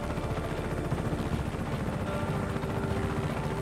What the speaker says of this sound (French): Ah non, c'est un hélico.